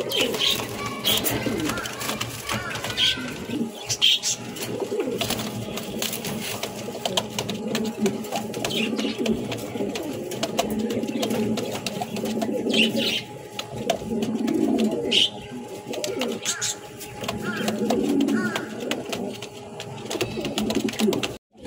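Pigeons for sale coo continuously at close range, several birds overlapping in soft throaty rolling calls, with a few chirps and light rustling and no one speaking.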